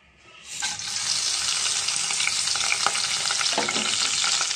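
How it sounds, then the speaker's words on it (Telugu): Amaranth leaves frying in a pan for tomato rasam, a steady close sizzle that starts abruptly and holds loud and even, with a few stirring scrapes running under it. "రసంలోకి తోటకూర ఫ్రై చేస్తున్నాను ఫ్రెండ్స్"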